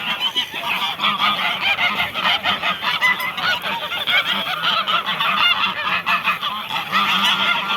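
A flock of geese honking loudly and continuously, many overlapping calls close by with no pauses.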